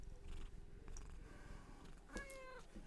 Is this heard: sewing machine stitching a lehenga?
no